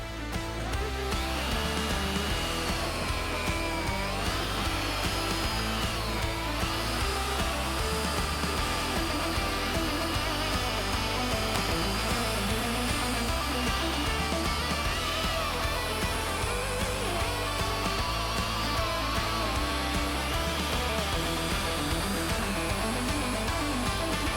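A Mirka polishing machine with a soft pad cuts vehicle paint around repaired stone chips, giving a continuous, fairly quiet whirring hum that wavers gently in pitch as pressure shifts, steady throughout with no voices.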